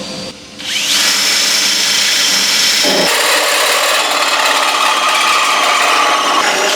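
A power drill whines loudly and continuously up close, its pitch shifting partway through as the bit grinds into metal.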